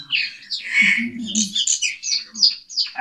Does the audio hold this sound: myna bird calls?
yes